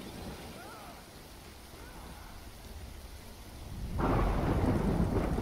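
Rain and rolling thunder in the video game Death Stranding: a low, distant rumble under steady rainfall, with the downpour swelling suddenly louder and hissing near the end.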